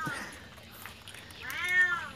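A cat meows close by at a family fishing outing, with one short call at the start and a longer, louder, drawn-out meow near the end over quiet outdoor background.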